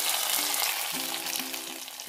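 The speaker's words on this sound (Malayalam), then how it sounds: "ഈ കടുക് വറുത്തത് ഈ കറിയിലേക്ക് ചേർക്കാം." Mustard seed tempering, fried with curry leaves, is poured into a cucumber and toor dal curry, giving a steady sizzle with a few brief tonal hisses over about two seconds, close and fairly loud.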